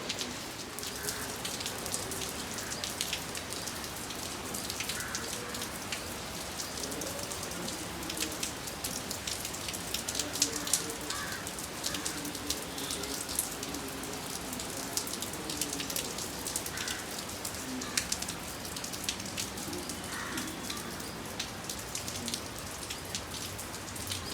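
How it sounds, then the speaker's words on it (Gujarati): Morning rain falls steadily with sunshine breaking through, a constant even hiss of drops on surfaces throughout, moderately quiet and with no one speaking. "આજે મસ્ત વરસાદ આવે છે"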